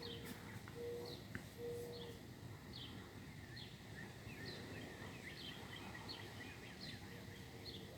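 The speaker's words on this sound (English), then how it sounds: "birds are basically just chirping" Faint bird chirps repeat at a steady pace outdoors at night, thin and distant over a low background hum, with a couple of brief cooing notes early on.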